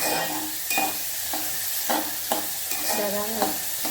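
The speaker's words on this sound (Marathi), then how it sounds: "तेलामध्ये कांदा फ्राय करणार आणि मग त्याच्यामध्ये ती भाजी" Onion and drumstick vegetable frying in hot oil for a Malvani curry, a steady sizzle broken by repeated scraping stirs every half second or so, close and clear with no talk.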